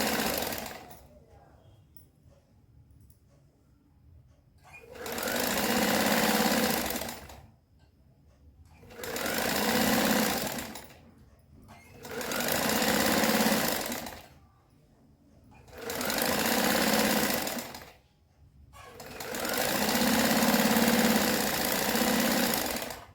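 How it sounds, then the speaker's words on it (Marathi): An electric sewing machine runs in five sustained bursts of steady whirring, stitching fabric strips onto a salwar, with quiet pauses between each run, close and loud. "आता त्यांच्यावर दाब शिलाई घ्यायची."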